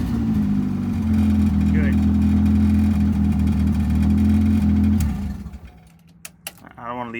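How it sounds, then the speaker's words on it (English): A boosted Honda Accord F23 engine running on E85 after a cold start gives a loud, steady, deep idle for about five seconds before cutting off. One short spoken word follows in the quiet. "But we'll go ahead and start her up. E85 cold start, baby."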